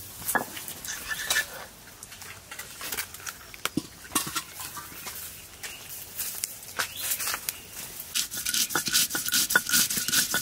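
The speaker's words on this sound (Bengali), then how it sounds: "আমি তাদের সর্ষে আর কাঁচা লঙ্কাটা সুন্দর করে বেটে নিচ্ছি" Mustard seeds and green chillies ground into paste by hand in a home kitchen: irregular scraping and rubbing strokes with gritty, rasping texture, close and moderately quiet, growing busier toward the end.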